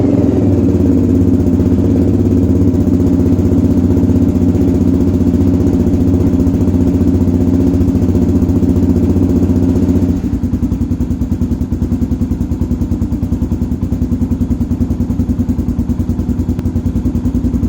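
A Honda 400EX ATV idles after a cold start with its choke off, a loud, steady, close single-cylinder putter that settles into a slightly lower, more even idle partway through, with no voices.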